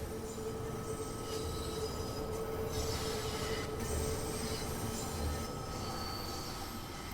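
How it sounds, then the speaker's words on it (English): Metal wheel flanges squeal against the rails of a London Underground Bakerloo Line train in Train Sim World 2, a steady high whine riding over continuous rumbling wheel and carriage noise throughout. "Sound of flange, that's the metal wheel rubbing against the metal rail, and the strain of that creating a squeal effect"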